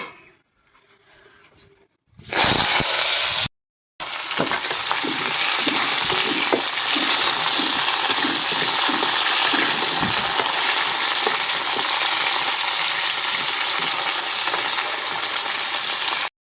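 Potatoes dropped into hot oil with panch phoron in a kadai, bursting into a loud, steady sizzle after a brief quiet start and a short pause, frying vigorously for many seconds with no talking.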